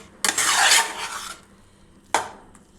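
Salt being stirred into a banana puttu mixture: two close rasping, scraping strokes of a spoon against a bowl, the first long and loud, the second shorter, with quiet pauses between.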